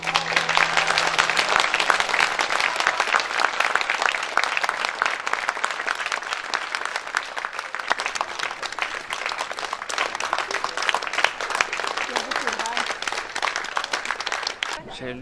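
Sustained applause from a concert audience at an academy concert, dense and steady for about fifteen seconds, with faint voices mixed in.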